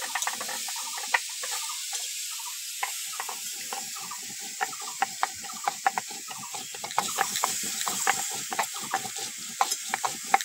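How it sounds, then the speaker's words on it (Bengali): Cumin is ground by hand, giving a rapid, rhythmic series of gritty scraping strokes that continue evenly throughout at a moderate, close level. "এবার আমি জিরেটা বেটে নেব।"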